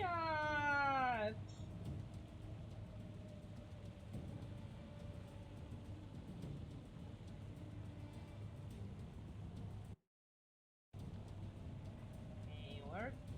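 A cat meows in the video game Dungeon Siege 3, one short cry at the start over a low game soundtrack, with a brief break and a faint second cry near the end.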